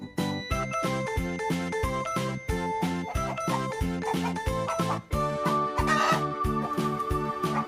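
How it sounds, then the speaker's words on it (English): A hen clucks and squawks in short bursts over bouncy, rhythmic backing music, the calls fairly clear but partly blended into the beat. "Hen."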